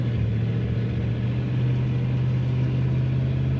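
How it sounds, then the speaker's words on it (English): A 1957 Chevrolet Bel Air 2-door hardtop idles with a steady, deep exhaust rumble and soft burble from the rear, a constant low drone with no talk. "Perfect rumble coming out the back of this car. Just a little burble until you get on the throttle and you can hear it a little more."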